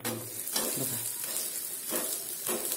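A mixed vegetable paratha fries in oil on a pan after being flipped, giving a steady crackling sizzle with a few soft scrapes and pulses of stirring; no voices.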